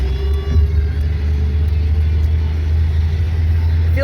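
Steady low engine rumble and road hum fill the cabin of a 1997 Saturn SL1 as it drives along, constant and close with no talking.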